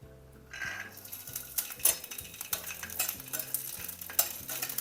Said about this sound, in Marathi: आता तेलामध्ये आपण हरभरा परतून घेणार आहोत.